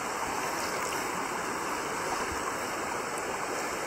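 Steady close rush of creek water runs throughout while a found gun is rinsed in the stream, a continuous broadband wash with no talk over it.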